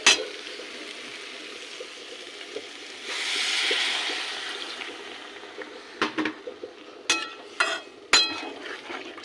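Water poured into hot oil with chilli powder sets off a short hissing sizzle that swells and fades. Sharp metallic clinks of a utensil on the pan follow.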